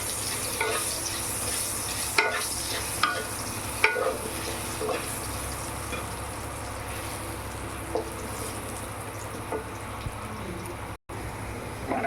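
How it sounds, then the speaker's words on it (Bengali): Potatoes with turmeric frying in a pan, a steady dense sizzle throughout with scattered light stirring scrapes and utensil taps, close and fairly loud with no talk. "এবার আমি আলুটাকে ভেজে নেব"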